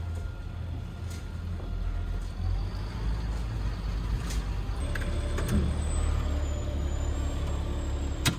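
A diesel skoolie school bus idles and rolls low and steady as it is pulled over onto blacktop, with a brief air-brake hiss and a thin high whine near the end.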